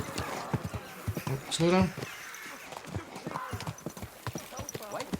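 Horse hooves clip-clop in a steady walking rhythm in Kingdom Come Deliverance 2, close by and mixed with a voice speaking over them.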